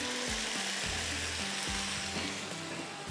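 Fried mixed vegetables tipped into a pan of cooking spinach for kofta aloo, giving a steady loud sizzle with repeated low scraping and stirring strokes about every second and no talk.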